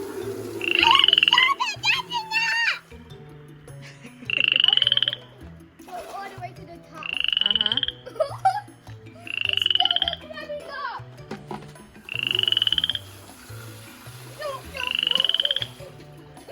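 A pet frog croaks in loud, repeated bursts of about a second each, evenly spaced, with a child's and an adult's voices talking between and under the calls.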